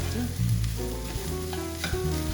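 Steady, close sizzle of food frying in a hot pan while fried rice is cooked for a chicken satay and bagoong rice meal, a continuous crackling hiss with faint stirring scrapes and no talk.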